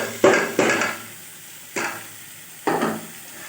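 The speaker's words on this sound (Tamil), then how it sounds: "வாழைத்தண்டு, மிளகா, வெங்காயம் எல்லாம் நல்லா ஒன்றா கலந்து வைக்கிற மாதிரி நல்லா இப்படி கலந்து விட்டுக்கணும்." Chopped banana stem, chili and onion are stirred in a hot frying pan, with four separate bursts of scraping and sizzling spaced across a quiet background.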